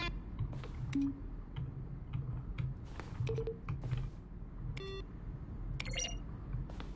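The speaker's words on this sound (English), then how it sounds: "Each sound is a mix of a keyboard stroke and a synthesized tone." Button presses in The Stanley Parable video game, each one a keyboard stroke blended with a synthesized tone: a scattered series of crisp clicks and short beeps, some in quick bursts, heard alone against quiet room noise.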